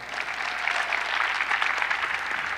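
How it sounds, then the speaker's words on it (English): Steady applause from a gala crowd at a chamber of commerce event, a dense even patter of many hands clapping, fairly close and holding at constant loudness without voices on top. "Round of applause."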